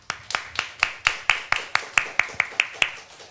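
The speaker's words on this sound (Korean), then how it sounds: "우리 모두 같이 박수 한번 쳐드릴까요?" Congregation at a Sunday church service clapping together in a steady rhythm, about fifteen crisp, evenly spaced claps at moderate volume, with no voices over them.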